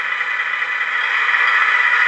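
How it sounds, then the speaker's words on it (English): A simulated engine sound from a sound unit on a 1/14 Tamiya King Hauler RC dump truck plays with the truck in neutral, a steady, thin, buzzy idle drone that rises slightly in loudness, with no talking. "the ability to run the engine sounds while the truck's in neutral"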